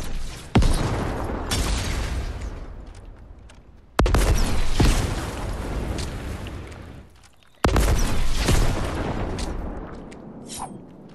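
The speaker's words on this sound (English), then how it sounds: "Destroy that bush, destroy that bush, destroy that bush." Holly hedge bushes smashed apart in Fortnite, with three loud, sudden crashing bursts spaced several seconds apart, each fading slowly into a noisy rumble.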